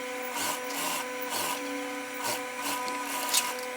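A sewing machine stitches down a pocket on fabric for a pair of shorts, a steady mechanical whir with rhythmic clacking pulses, close and alone.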